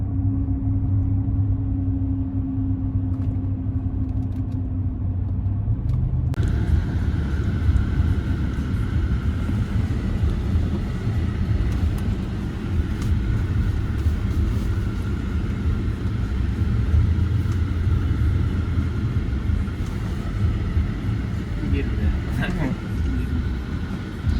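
Range Rover Sport driving around a Turkish village, a continuous low engine and road rumble from inside the cabin, with people talking over it.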